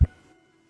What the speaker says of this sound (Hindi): दिल की धड़कन की आवाज़ जो आप मूवीज में सुनते हैं वो कुछ इस प्रकार प्रोड्यूस करी जाती है